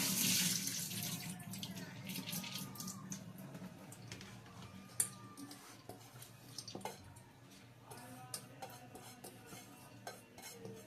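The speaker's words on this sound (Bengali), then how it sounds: "এখন আমি এটা জলটা ছেঁকে নেব" Water drains and splashes from twelve-hour-soaked mung dal in a kitchen, a faint running trickle with stirring, light clinks of a pot or strainer, and scattered small knocks throughout.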